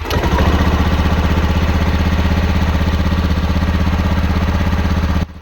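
A two-wheeler engine runs loud and close with a steady, throbbing idle that holds evenly for several seconds before dropping away abruptly.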